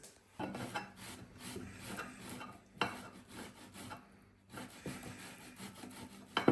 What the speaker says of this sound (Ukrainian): Також натираємо на ось такій терці